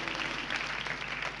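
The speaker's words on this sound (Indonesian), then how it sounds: "Berikan tepuk tangan bagi Tuhan Yesus" Church congregation applauding during a sermon, a steady dense wash of many hands clapping that is fairly distant and even in level throughout.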